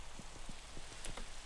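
Steady rain hiss from a Minecraft server game world, a constant broadband wash of falling rain with faint soft patters, fairly quiet and uninterrupted, no voices.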